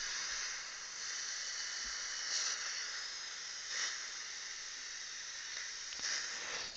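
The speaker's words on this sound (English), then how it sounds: "I suction that all out" Dental suction draws out fluid during an implant procedure, a steady airy hiss with faint gurgling swells, continuous and fairly quiet throughout.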